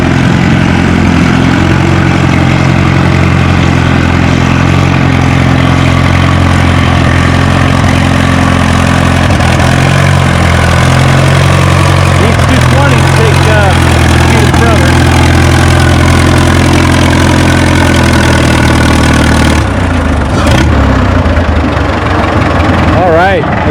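A pulling tractor at a tractor pull event in the 6,500-pound weight class runs loud and close, a steady heavy drone with strong low harmonics for over twenty seconds, shifting pitch slightly as it works, with an announcer faintly talking under it.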